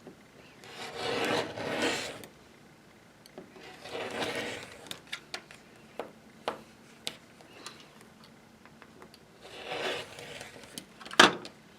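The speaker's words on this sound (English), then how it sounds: "I've got only a 45 mil blade on here, so it's having a hard time where it gets really thick here" A 45 mm blade on a leather wallet edge, trimming a thick section, scrapes and rasps in several rough bursts with scattered clicks and taps between them, close and moderately loud.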